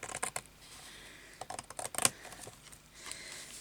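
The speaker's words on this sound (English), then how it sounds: "I think I'll just do it with the scissors" Close, crisp snipping and scraping of scissors cutting paper, a series of short irregular cuts with one sharper snip.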